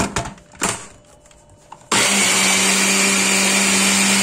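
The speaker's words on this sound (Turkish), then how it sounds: "Robottan tekrar geçiriyorum." A food processor blends spinach and milk: a few short bumps and clatters come first, then the motor kicks in and runs loud and steady at close range to the end.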